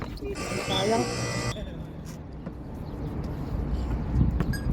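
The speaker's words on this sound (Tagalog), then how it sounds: "Buzzer na lang ang inyong marinig." A loud electronic game buzzer blares for about a second over the steady roar of a basketball crowd, which continues after the buzzer stops.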